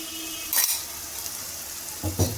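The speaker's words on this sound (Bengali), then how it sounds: "আমি মশলাটাকে ভালোভাবে কষিয়ে নেব" Spice masala with ginger fries in a pan for prawn malai curry, a continuous close sizzle with a couple of brief stirring scrapes.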